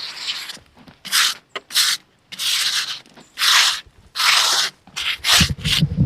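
A hand tool roughs dirt off a log before it is milled at a frontier sawmill, giving repeated close, loud rasping scrape strokes in uneven bursts with short pauses between them. No one speaks.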